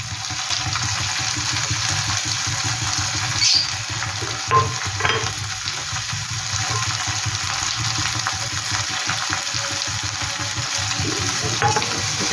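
Coconut, poppy seed and cashew paste being stirred in a pan for egg malai curry, a steady sizzle with soft scraping of the spoon throughout, close and continuous with no talking.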